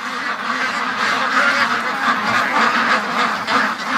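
Loud, close chorus of free-range ducks quacking continuously, many overlapping nasal calls with no pauses.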